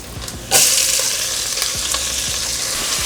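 Onions dropped into hot bacon fat for clam chowder: a sudden loud burst of sizzle, then a sustained close frying hiss, with light utensil taps and scrapes before and after.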